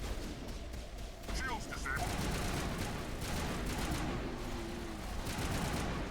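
Pistol gunfire in Mass Effect, rapid overlapping shots and battle noise in a fairly quiet, continuous barrage, with a voice speaking over it.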